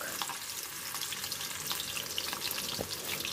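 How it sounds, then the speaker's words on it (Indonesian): Shallots and garlic frying in oil for a peanut satay sauce give a steady, soft crackling sizzle that runs evenly and fairly faint throughout, with no voices. "Kemudian saya akan goreng terlebih dahulu di sini bawang merah"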